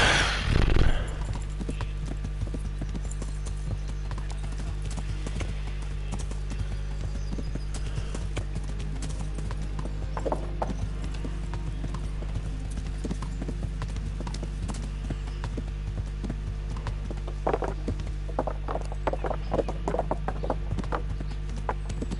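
Horse hooves clip-clop in a steady walking rhythm in the medieval video game Kingdom Come: Deliverance, fairly close and continuous over a low constant background hum, with occasional faint speech.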